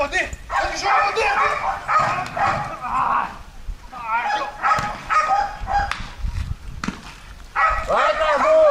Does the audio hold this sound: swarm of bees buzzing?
no